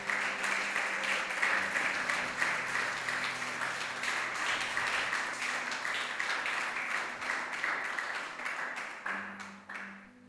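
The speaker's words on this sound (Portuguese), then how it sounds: "Uma salva de palmas para Jesus nessa manhã." Church congregation applauding during a morning service, sustained dense clapping that holds steady for several seconds and then tapers off toward the end.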